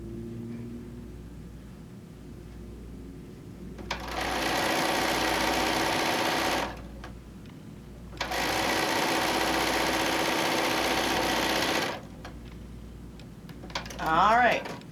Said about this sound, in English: So again, we sew down.